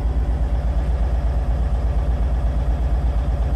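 A 1995 Kenworth T800B Aero Cab truck with an overhauled engine idles steadily nearby, a deep, even diesel rumble with light clatter and no other sounds.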